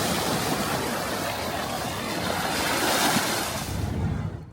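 Ocean waves washing onto the shore along an East Sea coastal walking path, a loud, broad rushing wash that swells and recedes, heard close with some wind, then drops away at the end.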